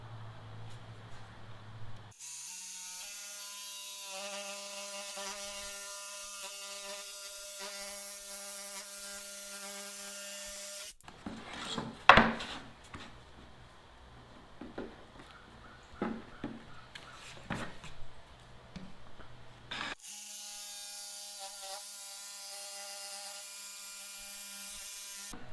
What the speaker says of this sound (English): The next step will be to cut it out with a jigsaw.